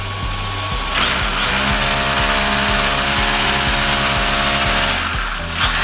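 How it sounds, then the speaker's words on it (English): A power drill whirs loudly and continuously while drilling holes in a ceiling, its motor pitch steady for several seconds before winding down near the end. "Mark it out with a pencil and drill away"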